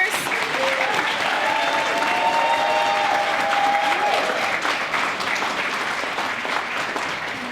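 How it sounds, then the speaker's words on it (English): Steady audience applause fills a youth-leaders awards ceremony, a dense continuous clapping wash held at even loudness throughout with a few voices calling out over it. "let's give another round of applause for our youth leaders."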